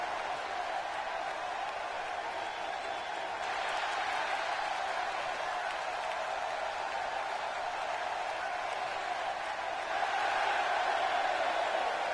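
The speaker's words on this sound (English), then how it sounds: "the enthusiasm from these St. Louis crowds never ceases to amaze me" Wrestling crowd in St. Louis applauding and cheering, a dense, continuous wash of clapping and crowd noise that swells slightly toward the end.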